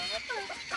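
A newly acquired pet quail gives a few faint, short chirping clucks in quick succession, close by and soft.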